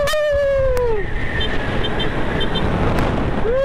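A 125cc motorcycle speeds along with a loud, steady engine drone under heavy wind rush, the engine note sliding down and then climbing again as it shifts.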